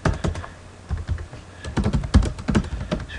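Rapid clicking keystrokes on a computer keyboard while entering text into quoting software, irregular bursts of close, crisp taps with brief pauses between them and no voices.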